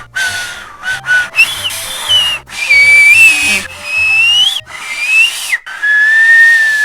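A person whistles by breathing in, producing thin, wavering high tones in several breathy bursts with hissy airflow and pauses between them, loud and close over a low rumbling background.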